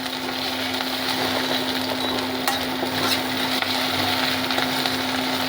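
Onions fry in a couple of spoons of ghee in a pan for dhaba-style dal fry, giving a steady, dense sizzle with faint stirring scrapes and a constant low hum underneath.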